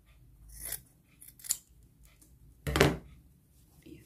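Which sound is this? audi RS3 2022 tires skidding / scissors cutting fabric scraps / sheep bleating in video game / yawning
scissors cutting fabric scraps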